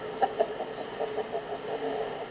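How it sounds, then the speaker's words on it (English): Chickens cluck as they are let out in a yard, a loose run of short, fairly close clucks and murmurs over faint background noise, with two slightly louder calls near the start. "Okay, so I'll let the chickens out here."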